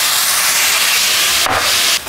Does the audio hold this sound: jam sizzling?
yes